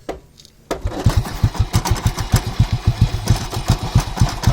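A two-wheeler engine coughs into life after its rear wheel is pulled by hand (the flywheel method), then settles into a loud, steady, rhythmic idle of closely spaced firing pulses.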